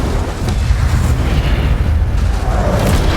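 Incendio fire spell cast in Hogwarts Legacy, a loud, sustained roaring burst of flame with a deep rumbling low end that holds steady for a few seconds.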